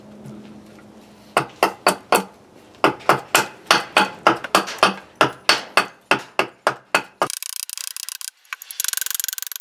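Sharp chopping strikes on the corners of a eucalyptus wood bowl blank, about twenty evenly spaced, loud, close knocks in a steady rhythm, then a brief stretch of rougher rustling at the end.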